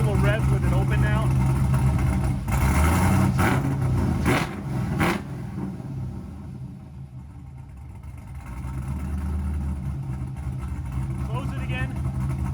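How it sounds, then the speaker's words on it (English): A car engine with its exhaust opened up, revved a couple of times in quick bursts that are loud and close, then settling back toward a steady rumbling idle, with people talking over it. "We'll give it a couple of revs with it open now."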